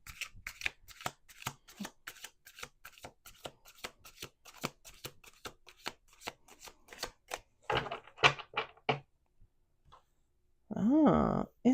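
Tarot cards shuffled by hand in a series of quick crisp riffles and snaps, close and steady, with a brief burst of voice-like sound near the end.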